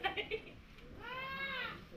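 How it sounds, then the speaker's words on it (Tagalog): A young goat bleats in a drawn-out, wavering cry much like a crying baby, following brief bursts of other sound at the start, with low background noise. "Bata yung kambing, pag umiyak, yung batang kambing, parang baby umiyak eh."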